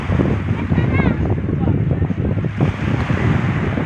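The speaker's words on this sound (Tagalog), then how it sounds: "Malamig ang hangin dito." Steady wind gusting across the microphone at the seashore with a surf-like roar underneath, loud and close, with a voice faintly audible in the mix.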